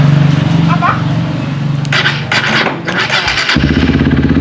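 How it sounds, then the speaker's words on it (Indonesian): Honda CRF 150L motorcycle started up close: the running engine drops away, a noisy burst of cranking follows, then the engine catches and settles into a low, steady idle. "Oke, akan coba saya starter."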